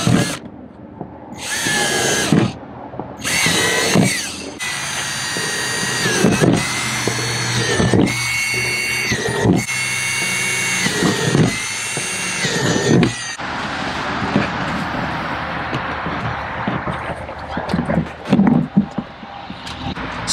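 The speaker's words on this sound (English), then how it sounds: "I have a 3/16 drill bit." A power drill fitted with a 3/16 bit bores holes in a plastic worm bin, its loud close whine rising in repeated start-stop bursts, then easing into a quieter running hum.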